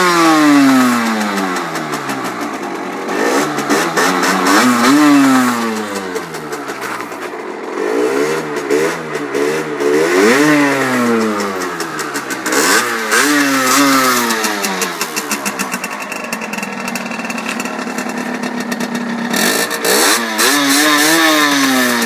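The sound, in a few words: Derbi GPR 50cc racing motorcycle engine idling and revving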